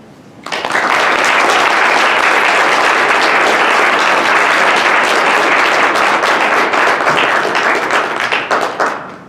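Loud, sustained applause from a large audience greeting a keynote speaker, Devin Stauffer, starting abruptly and holding steady for several seconds before tapering off at the end.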